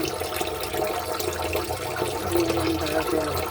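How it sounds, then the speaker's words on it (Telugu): A tap opened under pressure for cleaning, water running in a steady, moderately quiet hiss and splash with no pauses and no voices. "ఇలా ప్రెజర్ పెట్టేస్తే సన్నగా ట్యాప్ ఇప్పి దాంట్లోనంతా క్లీన్ అయిపోతుంది"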